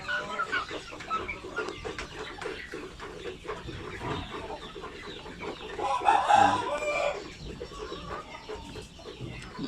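Chickens on a backyard farm raising birds for sale cluck and squawk in a busy flock, with a rooster crowing loudly partway through against a dense, continuous barnyard chatter.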